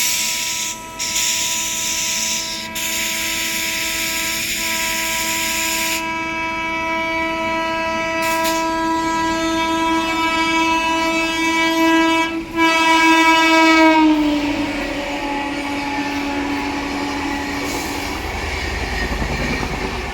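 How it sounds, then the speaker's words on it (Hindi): The Gonda Humsafar Express roars past on the rails, its horn blaring in long sustained tones that drop in pitch as it moves by, over continuous loud wheel and carriage rumble. "और आ गई है अपनी गोंडा हमसफ़र।"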